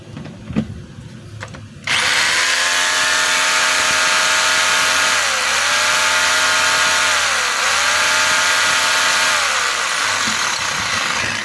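A DeWalt D25032 rotary hammer switches on after a few quiet handling noises and runs loud and continuous, its motor whine dipping briefly in pitch a few times.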